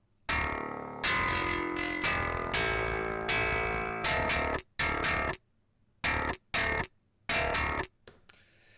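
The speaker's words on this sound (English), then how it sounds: "this is what it sounds like with that Archetype Gojira plugin turned on" Heavily distorted bass guitar through an Archetype Gojira amp plugin, playing chugging, choppy phrases with sharp stops and short silences between bursts, loud and alone.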